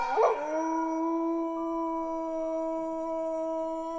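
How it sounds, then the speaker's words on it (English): A lone wolf howls near and loud in a stone castle setting, one long sustained, steady-pitched wail held for several seconds with a sharper rising onset. "Somewhere in the great stone maze of Winterfell, a wolf howled."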